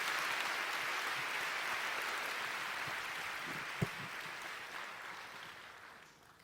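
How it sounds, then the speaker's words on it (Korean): Audience applause in a church, a steady, dense wash of clapping from a seated crowd that holds at an even, fairly soft level before tapering off at the very end. "잠시 박수 해주시겠어요?"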